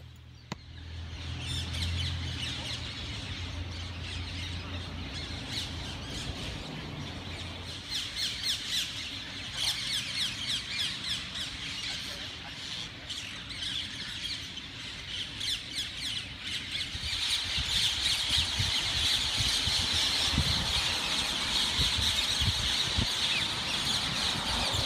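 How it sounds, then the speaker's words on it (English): A flock of birds arriving at Poipu Beach on Kauai at sunset, squawking and calling continuously, loud and busy throughout and growing denser toward the end, with no talking. "The birds arrive and fly around singing."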